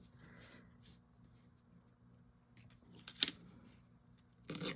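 Scissors trimming paper for a collage: a few faint snips near a quiet mic, with sharper cuts toward the end over a low steady hum.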